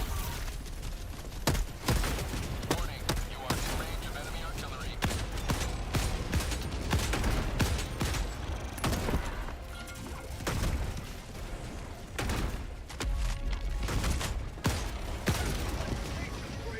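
Gunfire in the video game Helldivers 2, with dense continuous shooting and crashing impacts throughout, mixed with game noise and voices talking over it.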